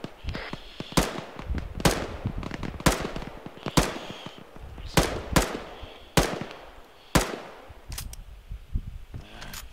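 M249 light machine gun laying down blind suppressive fire in ArmA3 combat, loud sharp bursts and single shots repeating roughly every second with echoing tails, close and punchy, no talking.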